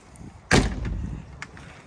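A Smart 450 City car door slams shut with its rubber seal removed. A single sharp, loud thud rings with a rattle and fades, followed by a faint knock a moment later.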